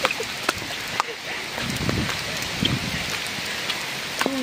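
Rain falling steadily outdoors during a city ride, a constant hiss of drops with occasional louder taps, and voices talking over it.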